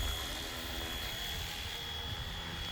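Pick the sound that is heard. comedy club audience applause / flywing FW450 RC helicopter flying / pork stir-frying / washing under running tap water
flywing FW450 RC helicopter flying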